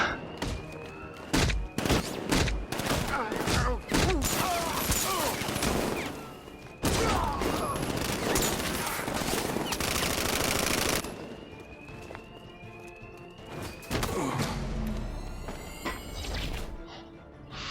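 Armed thugs open fire in Batman: Arkham Knight, with long bursts of machine-gun fire and scattered single shots mixed with crashes and impacts. The shooting is loud and almost nonstop for about eleven seconds, then thins to occasional shots and thuds.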